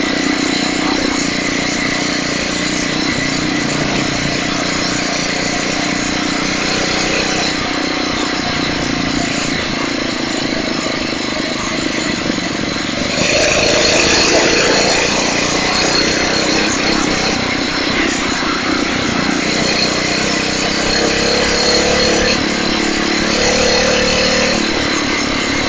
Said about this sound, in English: This is the first time my son John has ever ridden a motorized bicycle